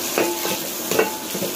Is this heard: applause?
no